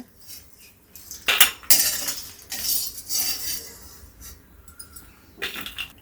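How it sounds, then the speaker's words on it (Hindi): Dry-roasted makhana (fox nuts) scooped out of a kadhai with no oil, a loud scraping spoon against the metal wok in bursts, with rattling and clinking between quieter pauses. "मखाने भुना गया, इसे हम निकाल लेते हैं।"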